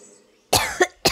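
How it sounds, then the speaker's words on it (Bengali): A single sharp, close cough followed by a short second one, with no talking around it. "একটা কাশি দিয়ে সকলকে"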